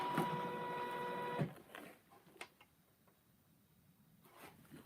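An embroidery machine stitches the bottom of a basket with a fast, buzzing mechanical whir for about a second and a half, then stops. Soft clicks and handling noises follow at close range.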